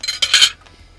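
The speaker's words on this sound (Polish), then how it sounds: "myję talerz i sztućce bez wychodzenia" A plate and cutlery being washed, giving a few quick clinks and scrapes of metal on a dish in close succession, close by and fairly loud, then fading to quiet.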